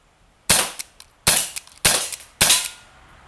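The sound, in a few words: 2-joule airsoft pistol shots at targets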